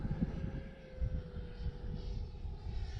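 An Arrows T33 RC model airplane passes low overhead at a park, its electric motor a steady whine over a rumbling, buffeting wind noise that swells and fades as it flies by.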